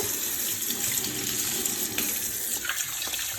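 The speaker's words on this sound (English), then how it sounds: "So I'm just gonna turn on my cold water" Cold water pours steadily from a tap into a sink, a continuous close rushing splash with no voices.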